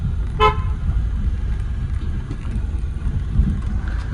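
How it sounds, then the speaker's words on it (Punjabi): An oncoming car passes on the road, heard from inside a moving vehicle as a steady low rumble of road and wind noise, with one short horn toot near the start. "ਫਿਲਹਾਲ ਸਾਹਮਣੇ ਗੱਡੀ ਆ ਰਹੀ ਹੈ"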